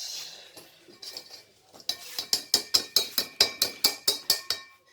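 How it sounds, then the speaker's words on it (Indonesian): Metal utensil clinking against a bowl while mixing martabak noodle ingredients, starting with scattered taps and building into a steady run of about a dozen sharp, evenly spaced clinks, close and alone. "Mix all ingredients"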